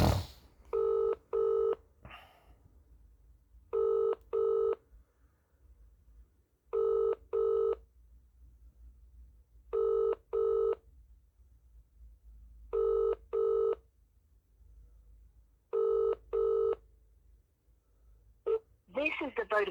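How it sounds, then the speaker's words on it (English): A call to a Vodafone mobile rings out with a repeated double-beep ringback tone, six evenly spaced pairs over quiet line hiss, followed by a brief electronic chirp at the end. "Ringing up Christopher Browell."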